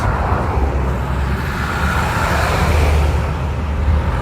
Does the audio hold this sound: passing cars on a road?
yes